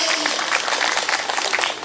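A crowd applauds at a large Islamic religious gathering in Purwogondo, Sumurarum, Grabag, a dense, steady wash of many hands clapping that fills the whole stretch at an even, fairly loud level.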